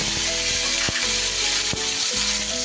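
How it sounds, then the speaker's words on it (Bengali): Cumin seeds temper in hot oil in a wok, giving a loud, steady, close sizzle and crackle throughout with a few sharp spatters and light scraping stirs. "তেলের মধ্যে দিয়ে দেব খুব সামান্য একটু জিরে ফোড়ন।"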